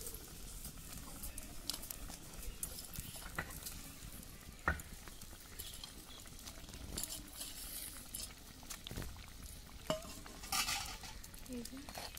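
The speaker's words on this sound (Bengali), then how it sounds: "মাছগুলো এবার আমি একে একে ছেড়ে দিচ্ছি ঝোলটার মধ্যে" Fish pieces slipped one at a time into a simmering curry gravy, a faint steady bubbling and sizzle broken by a few soft plops and light utensil clinks.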